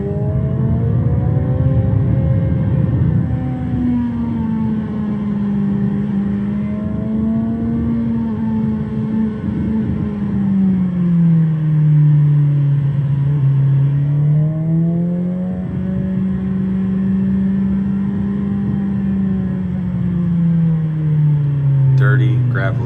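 A motorcycle engine held in second gear on a twisty road, its drone rising and falling as the rider rolls off the throttle and brakes into corners, steady and close with wind rush underneath.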